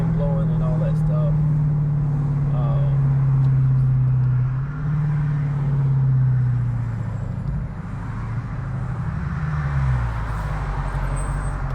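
Car driving with the windows down, a steady loud rush of wind and road noise over a low engine drone that rises and dips, with voices talking in the car.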